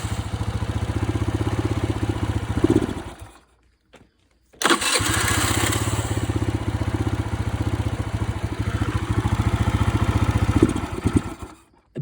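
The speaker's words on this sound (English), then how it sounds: "It bogs out when you give it gas." Honda Civic P28 engine in a 96-98 Civic with an OBD1 conversion, running with a rough mechanical drone, cutting out almost entirely midway, then catching again and bogging as it is revved, close.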